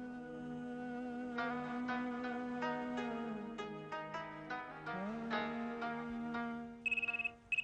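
A phone ringtone plays faintly in a home kitchen, a soft melodic electronic tune with plucked notes that continues for several seconds, ending with a short run of rapid ringing pulses.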